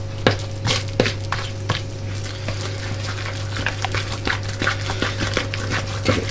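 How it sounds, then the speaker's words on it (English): Carrot cake batter is stirred in a mixing bowl with a spoon, a soft wet sloshing with repeated light taps against the bowl, steady and fairly close, with no talk. "Give it a good stir"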